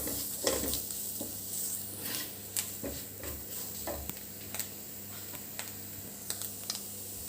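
Spices and turmeric being stirred into a brinjal and potato stir fry in a pan, with scraping clicks and taps of the spoon repeating over a steady, low sizzle.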